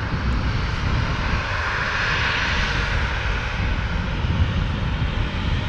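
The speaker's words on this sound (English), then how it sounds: "there was another Ryanair taxiing out as well" A Ryanair airliner taxis at Manchester Airport, its engines giving a loud, steady, broadband roar and whine that stays constant throughout without voices.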